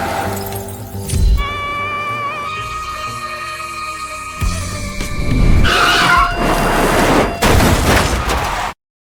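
Car crash sound effect: tyres skid with a long squeal, then a heavy impact and a loud burst of shattering glass, followed by crunching debris and a second crash before the sound cuts off abruptly.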